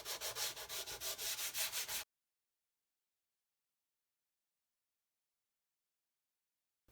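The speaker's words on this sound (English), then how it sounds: "So just working your way up through the grades of sandpaper basically until you've got no visible sanding marks" Sandpaper rubs back and forth across a wooden ST-style guitar body in quick rhythmic strokes, loud and close for about two seconds before cutting to silence.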